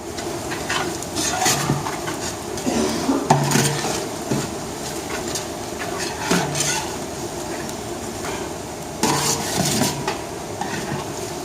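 Tomato paste sautés in a pan with a soft, continuous sizzle, broken by repeated scrapes and clinks of a spoon stirring against the pan at irregular intervals.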